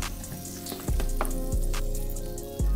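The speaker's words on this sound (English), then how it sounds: "now I'm going in with some butter and a little bit of oil" Butter and a little oil sizzle loudly in a hot pan before caramelizing bananas for French toast, a steady close frying hiss broken by a few sharp clatters of a pan or utensil.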